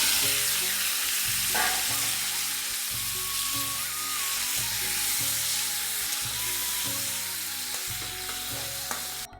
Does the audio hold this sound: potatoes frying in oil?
yes